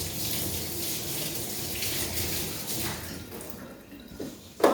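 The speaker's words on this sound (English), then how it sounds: "I'm just going to wash my hands quick to get this off." Hands are washed under a running kitchen tap after seasoning a brisket, a steady close rush and splash of water that thins out near the end with a few louder splashes and drips.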